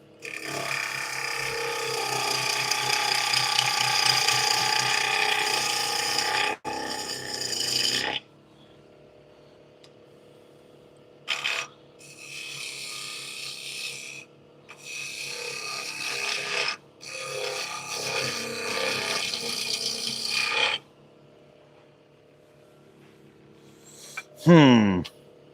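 A bowl gouge cuts wood spinning on a lathe, heard up close as long rasping, scraping bursts that stop and restart with short quiet gaps between passes.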